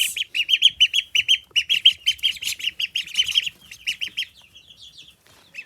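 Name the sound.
baby ducks peeping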